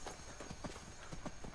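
Horse hooves clip-clopping in the video game Skyrim, a steady run of soft repeated hoofbeats close by, set against a constant background hum.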